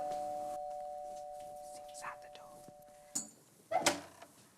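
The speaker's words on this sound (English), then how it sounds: "I hear doorbell." A doorbell chimes in a cartoon scene, a short tonal ring at the start, followed by quiet knocks and brief sharp clicks.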